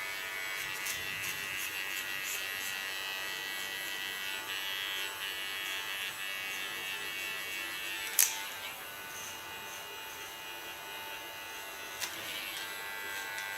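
An electric hair clipper buzzes steadily and fairly quietly while cutting hair at the nape in a salon, a continuous even drone with a couple of brief sharp clicks, no talking.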